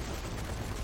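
Gunfire in the zombie shooter Zombie Army 4: Dead War during horde mode, a brief, dense burst of loud, continuous shooting with no voices.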